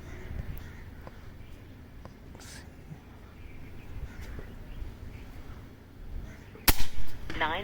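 An FX Impact air rifle fires at a target about 100 yards away, a single sharp crack standing out near the end over quiet outdoor background with faint birds.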